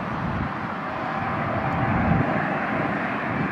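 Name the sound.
airplane landing at LAX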